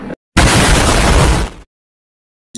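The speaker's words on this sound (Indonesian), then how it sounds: "bom yang sebelumnya dia letakkan di bawah meja akan segera diledakkan" A bomb hidden under a table detonates in a film, one loud, sudden full-bodied blast lasting about a second before cutting to silence.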